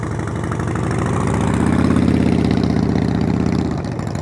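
Motorcycle engine running steadily at low speed during slow-speed riding practice, a close, continuous mid-to-low rumble with held throttle that swells slightly midway, heard alone without talk.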